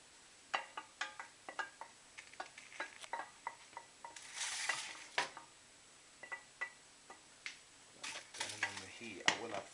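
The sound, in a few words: frying peppers, onions and chorizo sizzling in a pan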